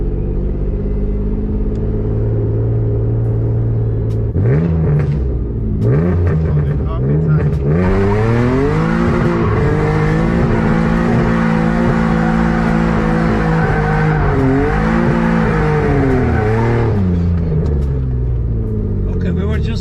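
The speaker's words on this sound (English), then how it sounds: "we were just making donuts" A turbocharged BMW E30 revs hard while doing donuts, the engine droning loud and close with repeated swells and dips in pitch over a constant rumble, a raspy turbo roar dominating throughout.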